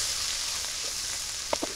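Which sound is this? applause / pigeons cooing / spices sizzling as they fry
spices sizzling as they fry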